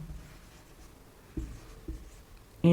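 Two short scraping strokes of chalk or marker on a classroom board while a matrix definition is written, faint and isolated with quiet room tone and no speech.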